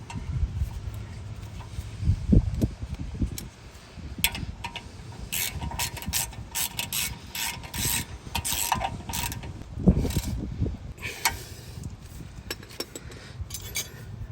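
Metallic clinks, ratcheting and rattling come from a bolt being fitted on the front brake of a Mercedes ML63 AMG during a pad replacement, an irregular close sequence of small mechanical sounds.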